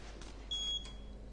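A short electronic beep in the Outlast video game on PS4 sounds once, thin and fairly faint, over a low steady hum.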